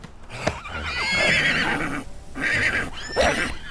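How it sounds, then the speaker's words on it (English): Several horses whinny loudly and shift about in a Call of Cthulhu tabletop game scene, with repeated neighs over a busy stretch of stamping and movement, close and prominent with no talk. "causing the horses to whinny and dance"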